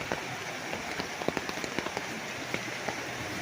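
Rain falling steadily on a riverside farm lot in Nagcarlan, Laguna, with a dense, close hiss and scattered sharper drips landing on nearby surfaces.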